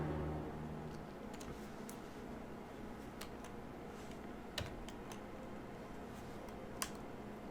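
Computer keyboard and mouse in use, with steady typing and clicking ticks running throughout, plus a couple of sharper clicks over a constant low background hum.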